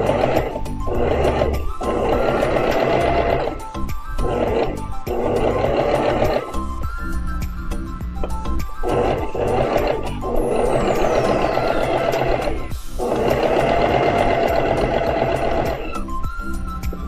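Portable sewing machine stitching fabric with a gathering and ruffle presser foot, loud close mechanical whirring in several long runs separated by brief stops, with no talking.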